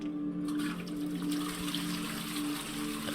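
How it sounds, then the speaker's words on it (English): Toilet flushing in the video game The Dream Machine, a steady rushing gush of water with a faint tonal hum beneath, close and unbroken, with no talk over it. "Oh, flush the toilet."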